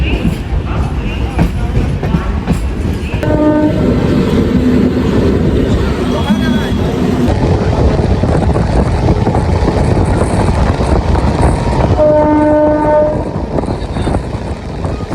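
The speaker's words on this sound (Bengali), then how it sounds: "আমাদের ট্রেন ছেড়ে দিল শিয়ালদহ রেলওয়ে স্টেশন থেকে" A local train running from Sealdah towards Namkhana rumbles loudly and continuously, with two blasts of the train horn partway through and a voice speaking over the noise.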